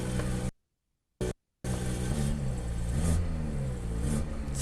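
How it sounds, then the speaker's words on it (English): A Mercedes-Benz CLS 350d diesel engine runs loud and close, briefly cutting out twice before resuming with a rough, throaty rev. "Listen to the power of that engine."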